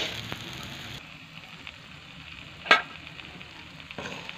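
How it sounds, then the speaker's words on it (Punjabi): A methi makki roti roasts on a hot tawa with a soft, faint sizzle, a few light scrapes and one brief sharp clatter midway. "ਹੁਣ ਅਸੀਂ ਤਵੇ 'ਤੇ ਰੋਟੀ ਪਾਵਾਂਗੇ ਸੇਕਣ ਲਈ।"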